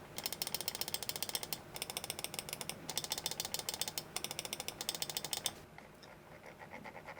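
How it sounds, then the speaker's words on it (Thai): Rapid mouse button clicks from a Pulsar CARPE-X gaming mouse with FE optical switches, a fast steady stream of sharp close ticks in bursts, then a few softer, sparser clicks at the end. "มันก็คือ FE Switch นั่นแหละเสียงคลิกประมาณนี้ฮะ"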